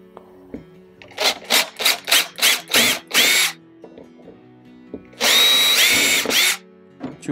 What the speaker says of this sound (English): Just gonna drill.